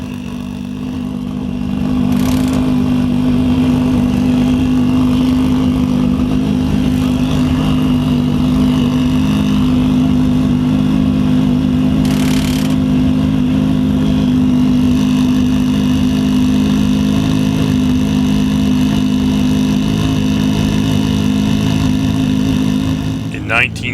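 A new Ford GT race car at the Roar before the Rolex 24 holds a loud, steady engine drone with a strong low tone, a few short rises in revs, and voices talking over it.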